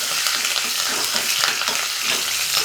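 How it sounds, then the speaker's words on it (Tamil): Green chili, dry red chili and curry leaves sizzle in hot ghee, a close, continuous crackling hiss of tempering for bisibelebath, broken by light stirring sounds. "ஒரு நிமிஷம் இந்த நெய்யில் வதக்கிட்டு நம்ம சாதத்தில் கொட்டிடலாம்"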